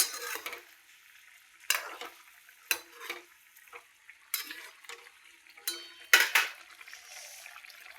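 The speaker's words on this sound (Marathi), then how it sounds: "हे बघा कसं उकळतंय" Capsicum curry in a pan makes soft bubbling and hissing, interrupted by several sharp clinks and scrapes of a spoon against the metal. The sounds come in separate bursts with quiet gaps between them, and nobody speaks.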